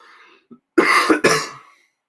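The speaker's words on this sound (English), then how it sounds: "Don't know why I'm coughing so much." Two or three harsh coughs in quick succession, close and fairly loud, with a faint throat noise just before.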